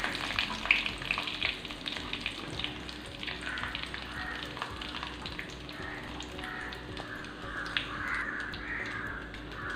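Dried red chili pieces hiss and crackle in hot oil for a kuzhambu, a continuous close sizzle with faint stirring and crows cawing in the background.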